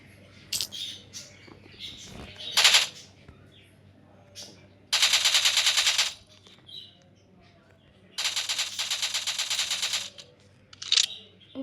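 Video game gunfire rattles in bursts: a few single shots early on, then two long sustained automatic volleys of about a second each, loud against quiet gaps with faint chirpy game sounds between them.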